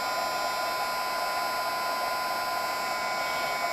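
A heat tool blows a steady, even whir with a thin high whine as it melts a layer of embossing powder for a faux metal finish, constant and unbroken for a few seconds.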